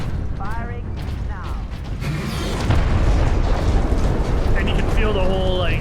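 A heavy weapon booms in Space Marine, followed by a deep rumble and mechanical creaking as the surroundings shake, with game effects and chirps scattered over a loud low roar.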